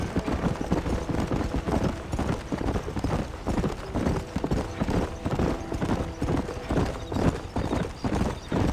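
Horse hooves galloping in the Red Dead Redemption video game, a loud, fast, continuous clip-clop rhythm throughout, close up, with faint game sound beneath.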